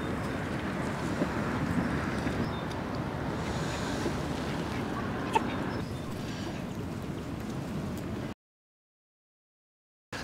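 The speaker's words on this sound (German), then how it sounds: "Oh, ist das windig heute" Strong outdoor wind gusting across a microphone beside a greenhouse, a continuous roaring rush with buffeting, which cuts abruptly to silence near the end.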